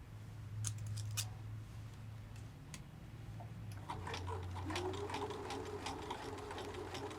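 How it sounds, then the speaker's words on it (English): Home sewing machine stitching along the bottom edge of a garment hem, a steady low motor hum running throughout at moderate level, with light clicks and ticks of fabric handling and pin removal. "As you sew, you can feel the edge of your hem, the bottom edge. So that's where you sew."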